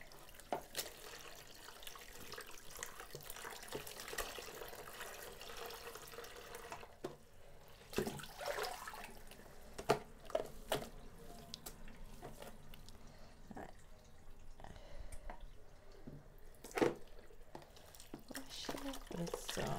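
Tap water runs and drips over a solar-dyed yarn cake in a sink, a soft steady splashing with irregular drips close by, while a person talks intermittently over it.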